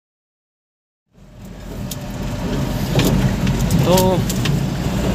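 A Mahindra pickup with slightly stiff steering pulls away after a moment of silence, its engine rumble building into a steady close drone while someone talks over it.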